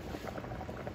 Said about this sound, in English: Guys, so I brought this back up to a boil.